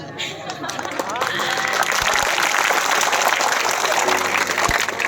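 Audience at a celebration event applauding together, a dense, steady wash of many hands clapping that swells after the first second and holds loud and close, with a voice over it.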